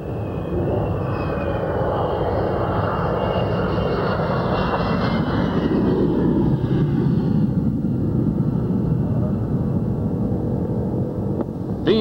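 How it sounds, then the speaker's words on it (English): F-16 fighter jets landing at the end of a military air show, a loud continuous engine roar and whine that slowly shifts in pitch and fades, with no voices. "And reluctantly, they bring the F-16s back to Earth."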